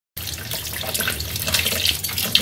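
Water runs steadily from a tap, splashing into a sink as amla (Indian gooseberries) are rinsed beneath it, close and continuous.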